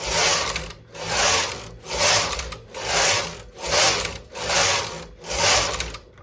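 A knitting machine carriage sliding back and forth across the needle bed, seven rhythmic rasping swooshes about a second apart, each rising and falling in loudness, with short pauses between passes.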